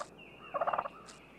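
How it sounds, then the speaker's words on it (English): A wild turkey gives its feeding call, a quick run of about six soft, clucking notes close by in an otherwise quiet natural setting. "This is the feeding call."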